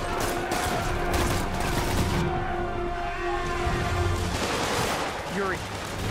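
Steady bursts of rapid gunfire rattle through a Spider-Man video game battle, dense and continuous, with voices and game effects mixed in underneath.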